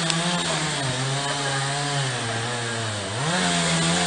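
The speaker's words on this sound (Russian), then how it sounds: "Глуши свою пилу!" A chainsaw runs steadily at high revs while cutting trees in a forest at Skhodnya, its loud buzzing engine dipping briefly in pitch under load before recovering, close and continuous with no talk over it.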